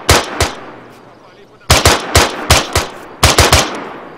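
Gunfire in the military shooter Arma III: two early shots, a pause, then a rapid string of loud close rifle shots and a final burst of three or four, with no talk.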